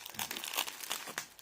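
Bubble wrap being unwrapped from a 1989 Franklin Mint model train, a quick burst of close crinkling and rustling plastic in uneven bursts, with no talk.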